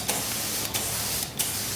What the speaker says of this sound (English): The spray gun gives us this fine mist that works really great for